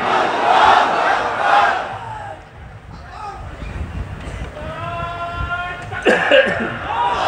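A large crowd at an Islamic sermon roars a takbir response in unison, loud and swelling at the start, then fading into a mix of murmurs and a preacher's voice before another shout near the end.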